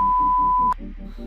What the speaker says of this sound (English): I bought this lie detector, so if you lie, it'll beep.